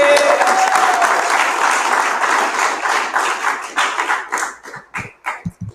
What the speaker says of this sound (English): let's give a big round of applause to Terry